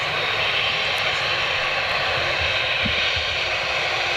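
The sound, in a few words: Boeing Dreamliner jet aircraft engines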